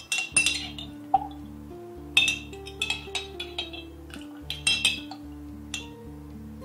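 A spoon clinks repeatedly against a glass while a full spoonful of honey is stirred into a drink, giving bright, irregular taps close by with short gaps between them.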